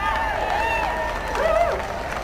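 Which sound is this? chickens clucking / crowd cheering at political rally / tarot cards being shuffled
crowd cheering at political rally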